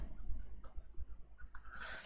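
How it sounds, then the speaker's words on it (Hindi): Computer keyboard keys being pressed, a handful of soft irregular clicks over a faint background hum, quiet and close. "हमने यहाँ पे कीबोर्ड से की प्रेस किया"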